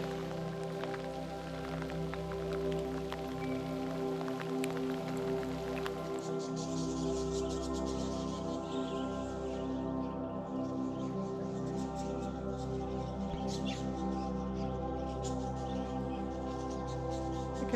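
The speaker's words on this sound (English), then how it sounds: "it's raining pretty heavily at the moment" Heavy rain falls steadily around Red Bank Gorge, about a kilometre from the campsite, a dense continuous patter and hiss on surfaces with a low rumbling wash beneath, close and unbroken throughout.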